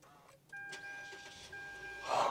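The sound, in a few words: Mitsubishi XFORCE 2023 engine starting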